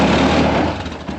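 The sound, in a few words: vehicle engine running, put into four-wheel drive on frozen ground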